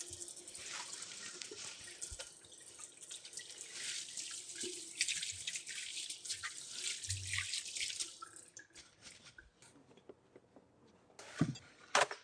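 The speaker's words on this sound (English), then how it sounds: "let me wash up." A kitchen tap runs steadily while someone washes their hands, making a continuous splashing hiss that stops near the end, followed by a few faint drips and clunks.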